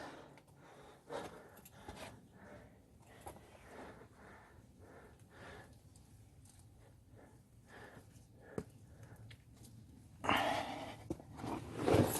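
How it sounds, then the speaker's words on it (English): A hiker on a mountain trail near Tepoztlán, Mexico, breathes heavily with gasps and grunts, close to the microphone, rhythmic and effortful, getting louder toward the end. "This is the heavy breathing and grunting part."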